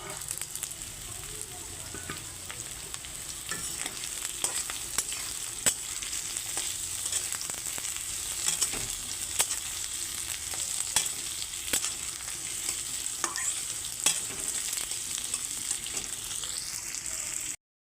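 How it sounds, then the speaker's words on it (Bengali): Chopped potatoes stir-fried in a pan with onions and green chillies for a ridge gourd and poppy seed dish, giving a steady close sizzle with repeated scraping stirs of the spatula throughout. "এখন আলু ভাজা ভাজা হয়ে গেছে"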